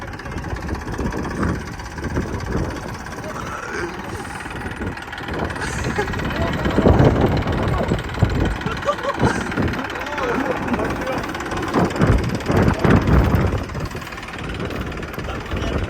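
A Massey Ferguson 241 tractor straining in a tug of war against a Thar, its mid-pitched diesel engine labouring and surging loudly outdoors beneath excited commentary and crowd noise.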